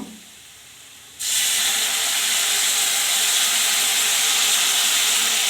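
A sudden loud, steady hiss bursts in after a quiet moment and holds strongly to the end as water from cooked lentils is poured into a hot kadai.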